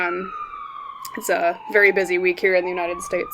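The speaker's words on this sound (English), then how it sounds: "Apologies for the sirens." Emergency vehicle sirens wail outside in a long descending sweep, then continue underneath as someone talks.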